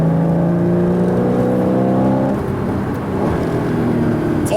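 A 2013 Porsche Boxster S PDK (981) on optional 20-inch Carrera wheels, driven hard and cornering: a loud, steady engine drone with sustained tonal whine and tire and road noise, heard close up with no talking.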